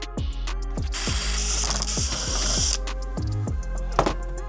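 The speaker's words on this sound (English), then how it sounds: "once you've undone all of the screws, you can slowly pull the thing out." Screwdriver undoing Phillips screws on the dash unit of a Land Cruiser Prado 150, a rapid series of close ratcheting clicks with brief pauses and a faint metallic clack near the end.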